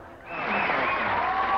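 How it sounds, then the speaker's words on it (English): Studio audience applause rising quickly into a steady, dense wash of clapping on a television talk show, fairly loud and sustained. "Don't milk the applause like that"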